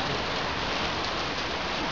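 Steady heavy rain pours down onto a street during an outdoor gamers meetup in Brisbane, a dense continuous hiss of drops on hard ground, loud and close with no pauses.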